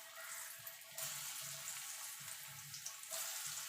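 Lentil dhoka cakes frying in white oil in a wok, a steady broad sizzle with soft crackling bubbles that swells slightly as pieces go in, close and even throughout.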